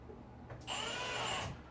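A power drill drives Torx screws with a worn bit, giving a loud, steady whir of about a second after softer handling noise, then winding down.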